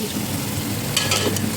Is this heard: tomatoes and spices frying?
yes